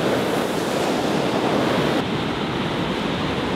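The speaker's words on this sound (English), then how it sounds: "Great waves, a beautiful sunny day." Ocean surf rolling in at Imperial Beach pier on a sunny day, a loud, continuous wash of breaking waves with steady wind noise and no voices.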